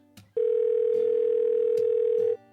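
A telephone ringback tone sounds while a radio presenter calls a listener: one loud, steady, continuous tone lasting about two seconds, heard on its own with no talking.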